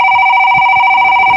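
Touch-tone telephone dialing, a loud, steady dual-tone beep held close and unbroken for over a second, alone with no voices.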